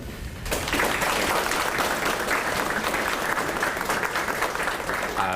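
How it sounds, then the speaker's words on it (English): Steady applause from an audience honoring industry partners at a national career and technical education letter of intent signing day, starting abruptly and holding a full, even roar for several seconds. "we want to give you all a round of applause for being here"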